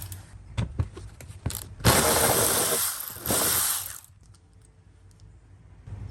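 Ratchet clicks loosening a 10mm bolt on the rear hatch of a third-generation Toyota 4Runner, a run of sharp close mechanical ticks that thickens into a dense grinding burst, then trails off into quiet handling noise.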